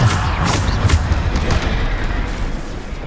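Bombarda explosion spells going off in Hogwarts Legacy, a run of loud booming blasts and bursts in quick succession during combat, with a dense rumbling low end.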